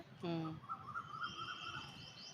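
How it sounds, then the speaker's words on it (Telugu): A bird chirps in a quick repeated trill, then sings in a longer high warbling run, with a faint voice and soft background noise beneath. "పిట్టలు కూకు రాగాలి"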